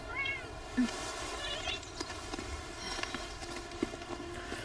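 Bob, a Palico cat companion in Monster Hunter Rise, gives a short meow over game ambience, with light footstep-like patter and soft clopping in the background.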